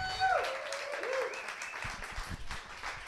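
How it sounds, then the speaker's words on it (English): A comedy show audience keeps up steady applause and clapping for the comics, with whoops and cheers mixed into the sustained crowd noise. "everybody give it up for all the comics you've heard tonight"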